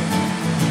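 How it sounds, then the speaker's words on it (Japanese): Small knee-high ocean waves breaking at a calm, windless surf spot, a loud continuous wash of surf heard close for under a second, without voices. "左の奥すね膝程度の、ひょっとしたらテイクオフできそうなぐらいの波がブレイクしてますね"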